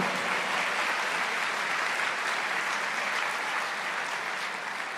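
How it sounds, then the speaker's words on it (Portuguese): A church congregation applauds at a sermon, steady dense clapping that holds at an even, fairly loud level throughout with no break. "Pode aplaudir mais forte."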